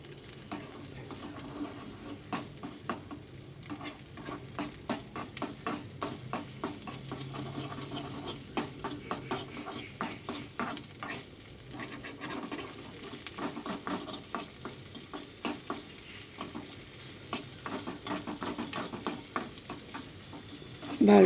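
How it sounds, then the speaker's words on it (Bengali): Egg bhujia, Bengali-style scrambled egg, sizzles steadily in a hot pan while a spatula stirs and scrapes it in frequent short strokes throughout, close and without any talk. "বারবার নাড়তে হবে, ভাজা ভাজা মতো হয়ে গেলেই রেডি।"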